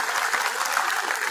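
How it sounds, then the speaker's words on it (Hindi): Loud, dense applause from an outdoor political rally crowd in Sri Karanpur, a short continuous burst of many hands clapping at once. "करणपुर की जोरदार तालियां"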